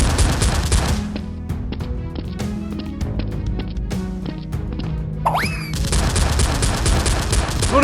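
Toy Nerf guns fire in a rapid, crowded volley: sharp overlapping pops and clacks that keep coming nonstop, close and loud, with a brief whistling sweep near the end.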